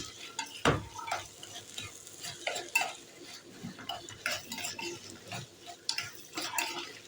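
Spoon stirring wilted onion with minced beef frying in a pan, scraping and clinking against the metal in irregular strokes over a soft sizzle, close and moderately loud, no voices.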